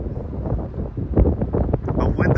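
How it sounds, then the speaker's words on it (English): Strong wind gusting at about 40 mph, buffeting the microphone in a loud continuous roar that swells and rumbles throughout. "the winds are still gusting to 40 miles per hour"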